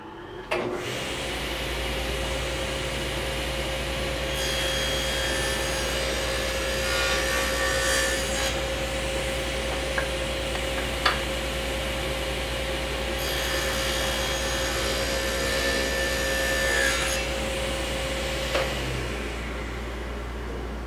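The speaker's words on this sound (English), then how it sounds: "Let's do a test cut." A saw makes a test cut through an offcut of door stile stock, a steady loud machine drone running throughout with two longer bursts of bright cutting noise and a few sharp knocks.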